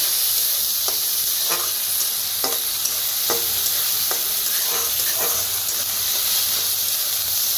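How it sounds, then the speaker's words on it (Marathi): Lentils (dal) roasting in a pan for a Marathi methi bhaji, with a steady sizzling hiss and a series of distinct scraping stirs at irregular intervals, close and alone. "डाळ चांगली भाजून घ्यायची पद्धतीनं दाखवायला आले"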